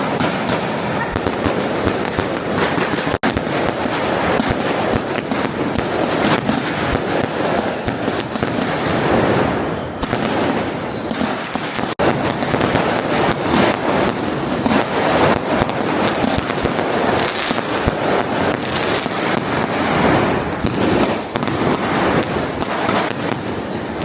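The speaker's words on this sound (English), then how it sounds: "Bright fireworks lit up the whole neighborhood." Continuous crackling barrage of firecrackers and fireworks bursting nearby at a rural Fujian housewarming, dense popping throughout, with repeated high whistling rockets rising over the din.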